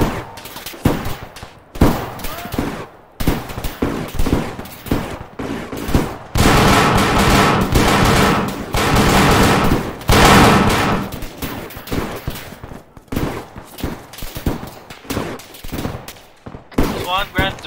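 Gunfire follows an order to fire during a combat operation, with loud bursts of rapid shots and dense volleys that come and go, mixed with shouted voices and radio chatter.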